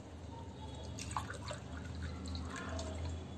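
About one and a half cups of water pour into a saucepan for turmeric tea, a soft, steady trickle and splash close by with faint drips.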